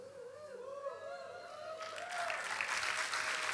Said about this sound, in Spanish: Yo pensé que me aplaudían a mí, no.